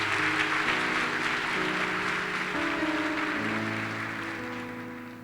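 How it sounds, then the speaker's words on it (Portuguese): Church congregation applauds during an evening worship service, broad clapping over sustained music chords, the applause gradually fading away at the end. "Aplauda a Deus essa noite."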